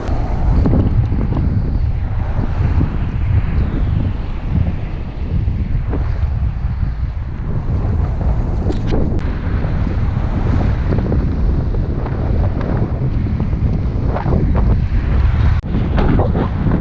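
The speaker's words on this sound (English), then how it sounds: "It's been a pretty steady headwind all day. Maybe 20-25 mile an hour." Steady 20 to 25 mph headwind during a bike ride, buffeting the microphone as a loud continuous roaring rush that swells and dips slightly throughout, with no voices.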